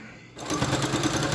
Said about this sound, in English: now that we're stitching our top hem, or our bias tape on,